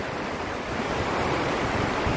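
River water flows in a steady, full rush, heard close and alone with no voices.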